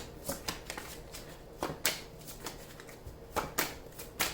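Tarot cards being shuffled close by: quick papery riffles and sharp slaps in irregular bursts, fairly quiet, with no speech.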